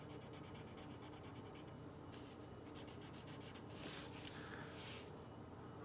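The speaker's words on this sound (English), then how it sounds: "I like to color in this area first." Steady scratchy strokes of a marker or pencil colouring in a skeleton face drawing on paper, continuous and close, with rhythmic back-and-forth rubbing bursts and no talking.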